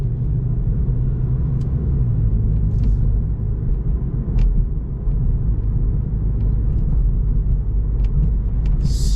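A 2019 Volkswagen GTI drives on the road, giving a steady, loud rumble of engine and tyre noise from inside the cabin, with no talking.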